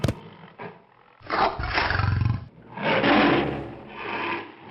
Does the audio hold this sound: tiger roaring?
yes